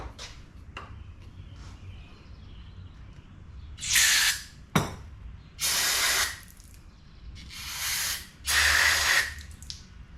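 Several sharp aerosol bursts of brake cleaner hissing onto 40-year-old crusty grease in a steering part of a 1980 Ford Courier, four longer sprays with a click between, close and loud over faint shop hum.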